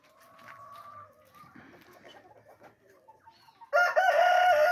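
Hens kept for eggs cluck and murmur softly on a ranch, then a rooster nearby bursts into a loud, sustained crow that fills the final second.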